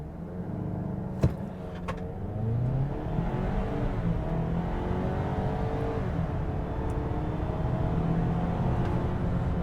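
A 2022 Ford Maverick Lariat truck accelerates hard from a standstill on a slight uphill grade, its engine note rising steadily and loud throughout, with a sharp click early on and no talking.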